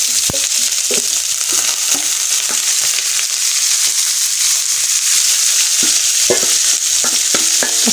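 Chopped onion and garlic frying in hot oil, a loud, close, continuous sizzle with scattered crackles and stirring clatter throughout, no voices.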